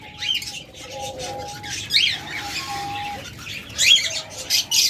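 Many diamond doves in a breeding setup flutter their wings in scattered bursts and call with soft, repeated coos and thin chirps, close and fairly loud, with no talking.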